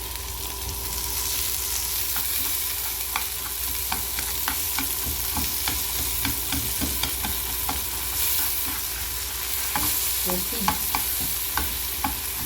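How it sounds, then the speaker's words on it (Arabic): Garlic and chili paste fry in a pan with a steady, close sizzle, punctuated by repeated scraping and stirring knocks, and a brief spoken word partway through. "ابتدي انزل عليها بالثوم وهرسة الشطة"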